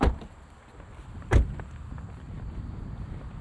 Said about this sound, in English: Shut all doors.